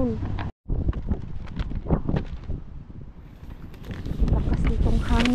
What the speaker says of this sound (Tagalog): Lakas nitong hangin na to, eh.